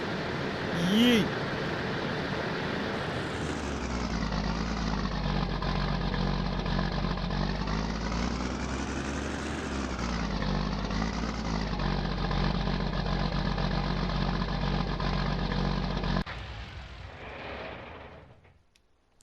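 Tractor engine in Farming Simulator 19, a loud steady mechanical drone whose pitch rises and falls slightly as it revs, running continuously for about sixteen seconds before abruptly cutting off and fading.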